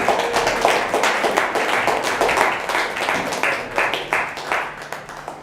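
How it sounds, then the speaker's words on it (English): An audience at a Scottish political campaign meeting applauds with dense, continuous clapping, many hands close together, slowly thinning out over several seconds. "we'll give a round of applause."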